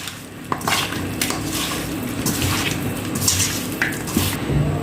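Chicken pieces being mixed with a cornflour coating in a bowl for a quick chicken kabab, with soft stirring and scraping clatter continuing steadily and close, with a few sharper clinks against the bowl.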